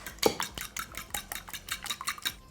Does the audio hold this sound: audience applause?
no